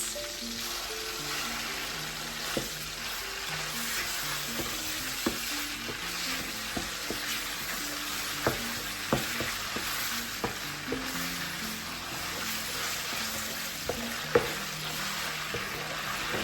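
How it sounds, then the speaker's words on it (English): Loud, steady sizzling of meat frying in a pot with tomato paste, with occasional clinks and scrapes of stirring throughout. "So my meat is frying."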